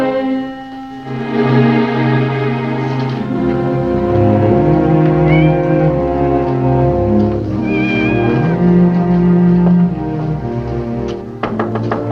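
A cat meows a couple of times in a 1952 western film. The short wavering cries sit over sustained musical tones that run through the whole scene.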